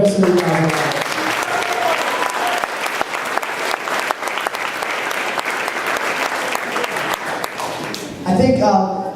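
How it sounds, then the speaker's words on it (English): Sustained applause from a banquet audience honoring high school soccer seniors at an end-of-season team banquet, steady and full for about eight seconds before a brief louder burst near the end. "if I get one last round of applause for the seniors"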